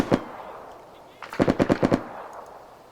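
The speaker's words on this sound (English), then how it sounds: "Oh, we're under attack. Okay. So define the SQF. I'm gonna crouch down, so we're getting shot at already." Gunfire in the ArmA 3 video game: a single shot, then a quick rapid burst of about six automatic rounds, loud and close, with faint talk nearby.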